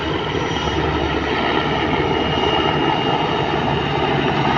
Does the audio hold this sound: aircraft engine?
yes